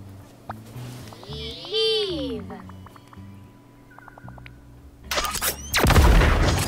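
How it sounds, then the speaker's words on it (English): Fireworks being tested in Disney Dreamlight Valley burst into loud crackling, booming explosions near the end, after a stretch of whimsical game sounds and chirpy voice effects. "Now Eve is going to guide us to a safe place to test the fireworks."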